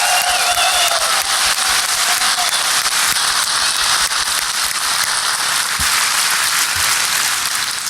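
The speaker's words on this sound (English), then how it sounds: "Let's make applause show up on that screen" Dense, sustained audience applause fills a conference hall at a hacker security convention, loud and steady throughout with a faint whistle near the start.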